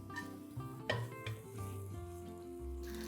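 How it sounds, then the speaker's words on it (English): Paneer sizzles with onions and capsicum in a hot pan, a steady frying hiss broken by a few clinks and scrapes of a spoon or spatula being stirred and tossed against the metal. "we're going to stir this with the onions and capsicum and give this one final toss"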